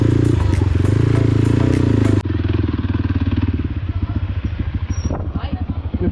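Motorcycles revving loudly on a group off-road ride, a close engine roaring steadily then throbbing in a rapid pulsing rhythm as it labours; someone speaks under the engine noise.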